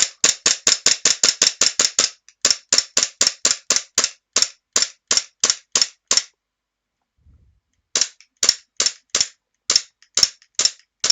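Rapid sharp cracks from a WE Glock 17 gas blowback airsoft pistol, first a quick burst of shots, then steadier evenly spaced shots, a short pause, and a final irregular string, loud and close with no talk.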